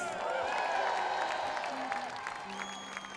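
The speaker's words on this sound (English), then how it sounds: "a big round of applause again for the wonderful chieftains" Applause from a cathedral audience for the Chieftains, a steady wash of many hands clapping that fills the space, with a few voices and whistles mixed in before it tapers slightly.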